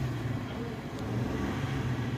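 A Suzuki Alto with a low idle fault is given a light rev, its engine humming steadily and quietly at close range with a slight rise in pitch.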